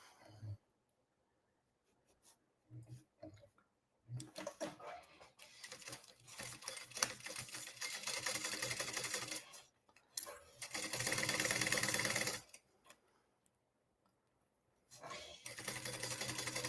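Sewing machine stitching a seam on a fabric device cover, heard in several bursts of whirring, some short and some sustained, separated by quiet gaps, with light handling noises between runs.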